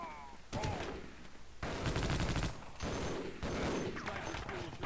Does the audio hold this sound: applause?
no